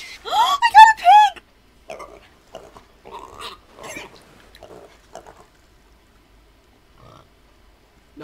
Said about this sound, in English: Oh, I got a pig!